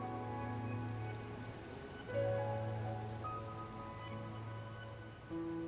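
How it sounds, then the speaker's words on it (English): Steady rain falls in the lo-fi 90s-style PC game RAIN98, a continuous soft hiss with a low droning hum beneath it and no voices. "paying no attention to the rain falling on her"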